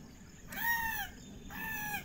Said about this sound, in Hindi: ये एक कबूतर जैसी आवाज़ निकाल रहा है